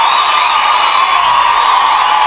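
A live concert crowd cheers and whoops loudly, a dense, sustained roar of many voices that fills the whole moment.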